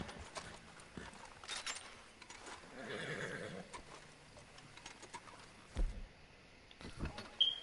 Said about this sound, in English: I'm trying to like brush my horse right now and calm it down